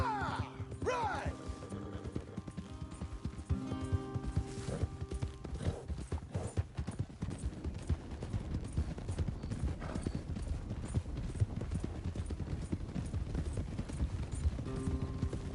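Horses clip-clop at a steady gallop in Red Dead Redemption 2, hooves drumming continuously and fairly close, with a brief whinny near the start and voices speaking over the ride.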